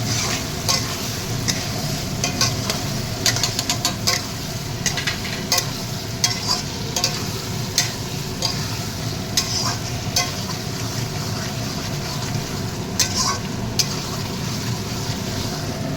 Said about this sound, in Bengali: এবার এর মধ্যে আলুটা দিয়ে দেবো। আলুটা দিয়ে নাড়তে লাগবো।